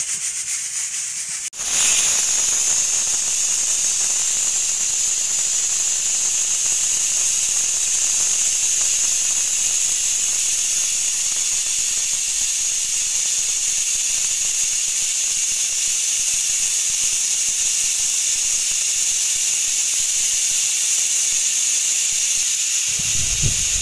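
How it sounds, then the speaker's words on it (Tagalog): A pressure cooker releases steam in a loud, continuous high hiss that starts abruptly after a brief quiet moment and holds steady to the end, close by and without talk. "gumamit kayo ng pressure cooker. Kailangan guys, bago nyo buksan, kailangan pasingawin nyo muna ng todong-todo"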